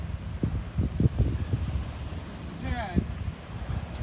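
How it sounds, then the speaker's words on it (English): Breezy wind buffets the microphone aboard a boat near Marco Island, Florida, with low rumbling gusts and faint water and engine noise, while a person talks over it. "Breezy out here."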